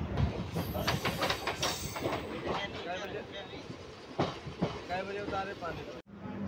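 A passenger train runs between Delhi and Samalkha, its steady clickety-clack of wheels on rail joints and carriage rumble continuous and fairly close, with hiss and rattles throughout before a brief dropout near the end.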